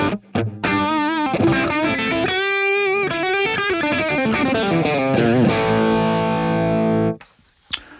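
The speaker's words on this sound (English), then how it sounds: "If I just turn the BB preamp on by itself," An electric guitar played through a BB preamp pedal into a Mooer Radar cab simulator, driven and distorted, rings out in a run of chords and sustained notes, then cuts off sharply at the end.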